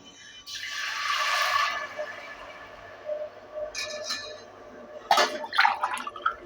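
Water is poured from a tumbler onto moong dal in a pot for payasam, a splashing, gurgling pour that swells early, followed by lighter trickles and a few clinks of the vessel.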